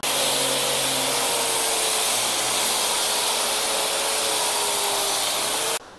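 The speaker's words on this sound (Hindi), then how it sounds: "नीचे काम शुरू है जो मरंटी के दरवाजे थे उनके ऊपर ग्राइंडिंग का, ये इस तरह से यहाँ पे ग्राइंडर लगा है।" A grinder sands wooden doors in a steady, loud, continuous whine and hiss, holding nearly constant for several seconds before cutting off abruptly near the end.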